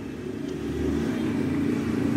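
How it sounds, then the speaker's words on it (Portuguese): A Honda Biz 125 motorcycle engine, one with no spark at the plug, turns over and catches into a low, steady idle that swells and holds at close range, with no talk over it. "Então vou ver se tem como eu colocar aqui para vocês verem que a moto já vai pegar"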